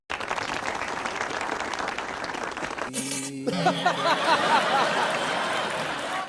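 Applause from an audience at a spiritual guru's discourse, a steady patter of many hands clapping, with a brief buzzing tone and scattered chuckles breaking through partway.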